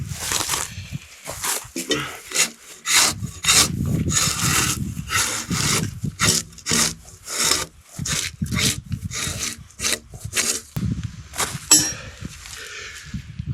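Bark being peeled off fir tree logs outdoors: repeated scraping and rasping strokes with woody knocks and clinks, loud and close, in an irregular working rhythm.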